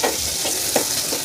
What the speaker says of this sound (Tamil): சின்ன வெங்காயம் போடுறேன்,